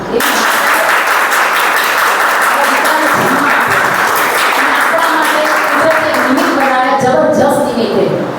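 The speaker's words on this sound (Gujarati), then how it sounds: "એક વખત એમના માતૃશ્રી માટે તાળી" A seated audience at a spiritual gathering breaks into loud, sustained applause, a dense continuous clapping that runs the whole stretch before thinning out toward the end.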